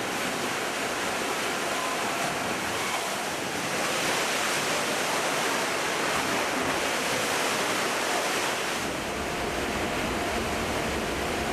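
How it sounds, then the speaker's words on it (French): Heavy ocean waves churn around a moving cruise ship off the Falkland Islands, a continuous broad rush of surf and wind noise that swells and eases slightly, loud and steady throughout with no voices. "les vagues deviennent plus importantes et notre bateau bouge déjà considérablement"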